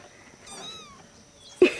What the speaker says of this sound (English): Why did you meow?